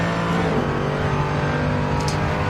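A Mercedes AMG GT3 race car in a racing video game accelerates hard, its engine a loud, steady, high-revving drone that holds close and continuous throughout, with no voices over it.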